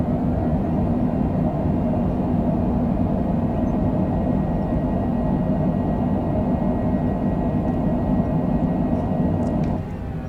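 A jet airliner lands at Acapulco, Mexico, with a loud, steady roar of engines and thrust reversers throughout, heard from inside the cabin and easing slightly at the end.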